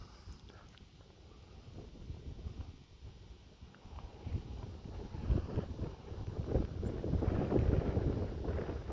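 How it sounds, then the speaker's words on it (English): Wind gusting on an open, smoky road near the Craters of the Moon area, buffeting the microphone with low rumbling roar that builds stronger in the second half; a voice speaks briefly. "Wish it wasn't so smoky and windy so you could see a little better and hear a little better"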